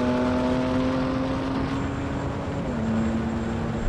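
Engine of a BMW M3 Touring or AMG C63 S Estate pulling hard under kickdown, a steady close droning note that shifts pitch once partway through, with no talk.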